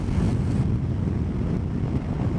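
Heavy wind roar buffeting the microphone of a rider on a motorcycle in rain, steady and loud throughout with dense low rumble and no pauses.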